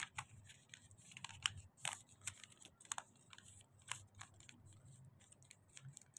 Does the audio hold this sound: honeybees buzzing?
no